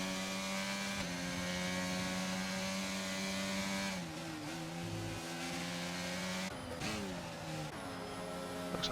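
F1 22 race car engines in a simulated sprint race at Zandvoort, a continuous high-pitched whine with several cars at once, shifting pitch through gear changes and braking, with occasional commentary voices underneath.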